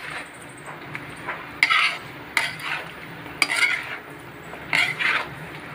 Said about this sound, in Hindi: अब यहाँ पे हम कटहल इसमें डाल देते हैं।